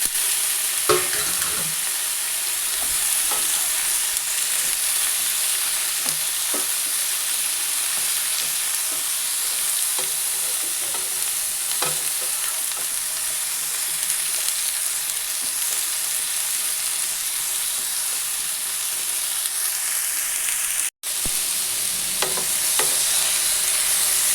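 Ridge gourd fries in a pan with dried chillies and crushed ginger, giving a steady, close hiss of sizzling oil, broken by soft scraping taps of stirring, with one brief dropout near the end and no talk.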